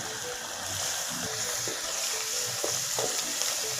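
Masala for a potato and egg curry sizzles and fries steadily in a pan, a continuous close crackle with a few faint stirring clicks and no talking.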